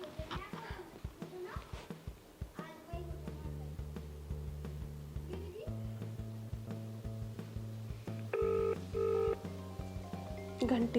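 A telephone is dialed with a string of electronic keypad tones, followed by steady repeating ring tones, heard amid a domestic scene in a Rajasthani-Haryanvi comedy sketch with people talking throughout.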